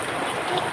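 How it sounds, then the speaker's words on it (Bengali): Steady heavy rain hisses continuously, a dense, even wash of drops with no voices. "বৃষ্টির শব্দ আপনারা নিশ্চয়ই শুনতে পাচ্ছেন যে কতটা বৃষ্টি হইতেছে"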